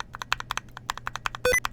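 Close, crisp clicks from a GMMK Pro mechanical keyboard with Rainforest keycaps, including the shift key, in an irregular stream of several presses, ending with a brief bright electronic ping.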